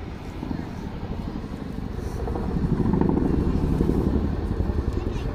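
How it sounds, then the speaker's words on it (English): An RAF Chinook, a 15-ton twin-rotor helicopter, flies display manoeuvres at an air day, its low rumbling rotor thump and engine roar swelling steadily louder at a moderate distance, with an announcer talking over it. "15-ton helicopter there in front of you, and you can see the agility and maneuverability it has for getting in and out of difficult battlefield situations"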